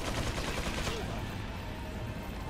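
Rapid gunfire from the video game Resident Evil 4, a dense burst of repeated shots with a fast pulsing rhythm that eases into a constant rumbling wash, loud and close, with faint voices underneath.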